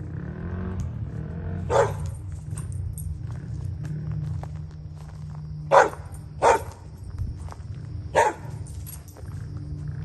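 A neighbor's puppy next door gives four short, sharp barks spread across the stretch, fairly close, over a steady low hum of background noise.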